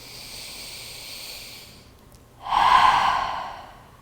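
A deep, breathy inhale during a yoga breathing exercise, a soft airy rush that swells loudly at the end after a quieter exhale, close to the microphone with no talking.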